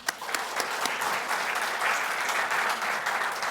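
A crowd at a Korean political party convention gives sustained applause of encouragement. The clapping is steady and fairly loud, with a few distinct claps at the start, and fills the whole moment without speech.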